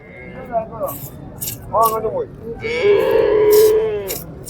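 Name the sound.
cows mooing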